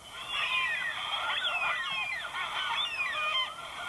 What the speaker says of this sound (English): This is the sound of Carnaby's black cockatoo